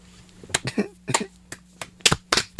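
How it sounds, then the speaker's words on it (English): A few sparse hand claps ring out in a small room during a podcast, sharp isolated smacks spaced unevenly over a couple of seconds. "I was just applauding you"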